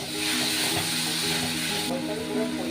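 Fish oil hitting a hot pan while cooking a Bengali fish-bone chochchori, a broad steady sizzle and hiss with a few faint clinks and stirring sounds underneath.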